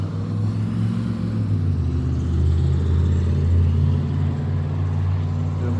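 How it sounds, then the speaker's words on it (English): Loud, steady low-frequency rumble of a heavy truck close by, engine drone holding strong throughout with no talking, as it passes near a parking lot with cars. "There's just a loud truck right now"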